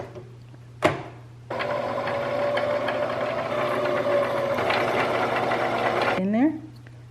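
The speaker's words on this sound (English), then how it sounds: "we're about to get sewing" After a brief knock, a sewing machine stitches fabric for a book sleeve, running steadily and loudly for several seconds before winding down into a short squeak.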